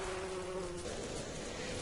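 Bees buzz steadily in the survival video game Don't Starve, a continuous droning hum with no breaks, fairly loud and alone for under two seconds.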